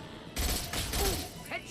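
A short burst of rapid gunfire sounds in the video game Mass Effect 2, with a few sharp shots over game ambience and a voice speaking nearby.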